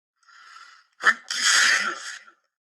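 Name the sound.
voice imitating a big sneeze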